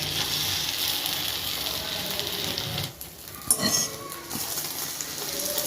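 An egg and mutton mixture sizzles steadily in a hot pan, a constant loud crackle with a brief dip and a few clinks of a utensil against the pan.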